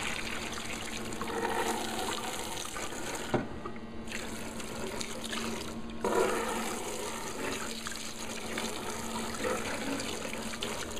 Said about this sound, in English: I like using a hose.